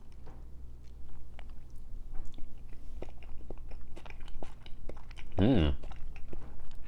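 Spicy salmon sashimi topped with spicy mayo is chewed softly and wetly, with one louder crunchy bite near the end, and a brief appreciative murmur comes between mouthfuls.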